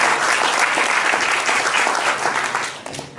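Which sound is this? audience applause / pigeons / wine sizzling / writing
audience applause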